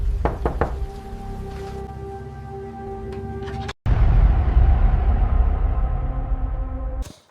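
Knocking on a door: a quick run of sharp raps at the start, then a steady hum and a heavy thud midway, with a dense rumbling wash that follows.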